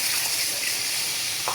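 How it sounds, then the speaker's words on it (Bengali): Water poured into a pan of cooked-down coconut masala for prawn malai curry, a brief steady rushing hiss that stays loud and even throughout. "এখন আমি এখানে পরিমাণ মতো পানি দিয়ে"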